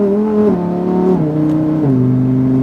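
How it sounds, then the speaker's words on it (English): A Lamborghini STO accelerates on a race track, its engine note climbing steadily through the revs and dropping in steps at each upshift, loud and close from inside the car. "Squeeze the throttle, straighten the wheel, and accelerate."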